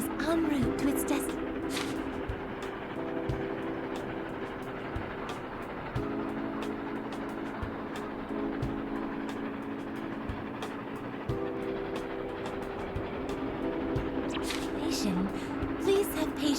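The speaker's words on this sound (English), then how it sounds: "The train is en route to its destination." A train rolls along the rails in the video game Persona 5 Tactica, a steady rumbling ride with repeating tonal hums and faint rhythmic clicks, continuous and moderately close.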